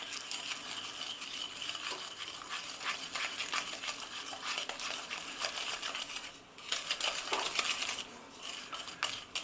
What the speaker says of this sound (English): I'm adding about half a teaspoon straight in there. Give it a good mix.